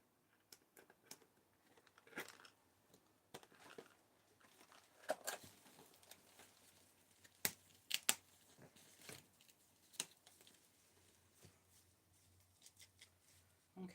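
Scissors cut string ties to free a reproduction fashion doll from its packaging, producing faint, close snips and crinkles scattered irregularly over a quiet background.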